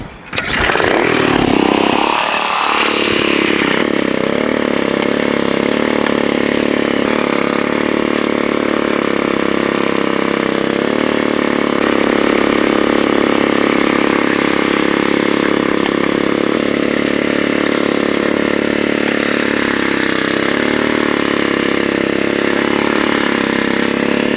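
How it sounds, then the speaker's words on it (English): Tiller engine starting and running continuously while tilling Georgia clay soil, a loud steady mid-pitched motor drone close by for the whole stretch, no talk. "Today we're tilling some Georgia clay."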